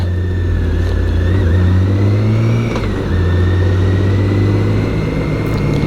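A BMW K1600 GTL motorcycle engine filters through road traffic, a loud, close hum that rises and falls slightly in pitch as the rider eases the throttle, with no voices.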